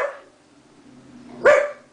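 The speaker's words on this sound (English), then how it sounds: "why are you barking?" A single sharp dog bark rings out nearby after a softer whine-like sound, with quiet in between.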